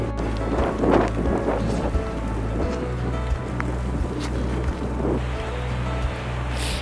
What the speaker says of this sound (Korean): 방금 전까지 우박이었는데 이게 비가 오다 안 오다 그러는데